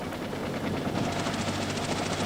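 A helicopter flies during a Vietnam War evacuation, its rotor blades chopping in a fast, even thump over a steady engine whine at moderate distance, with no speech.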